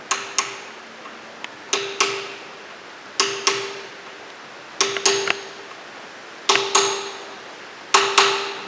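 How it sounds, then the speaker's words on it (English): Light hammer taps seating a Woodruff key into its slot on the camshaft of a Volvo B18/B20 engine: about a dozen sharp metallic clinks with ringing decay, single and in quick pairs, close and alone. "we place the wood rough key into its slot on the camshaft, like so, and carefully tap it home"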